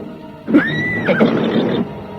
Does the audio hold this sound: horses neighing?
yes